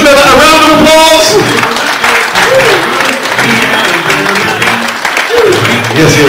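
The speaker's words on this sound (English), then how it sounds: "Once again, give Mr. Miller a round of applause." Enthusiastic audience applause at a live magic show, loud and dense, breaking out right after a rope-tie illusion, with music and a host's voice over the clapping.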